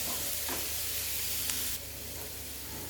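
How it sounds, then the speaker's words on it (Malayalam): Chopped capsicum frying in a pan while being stirred, a steady close sizzle and hiss with a few light scrapes; the sizzle eases slightly partway through, with no talk. "നമുക്ക് ക്യാപ്സിക്കൻ അരിഞ്ഞത് ഇട്ട് കൊടുക്കാം. നമുക്ക് മിക്സ് ചെയ്യാം."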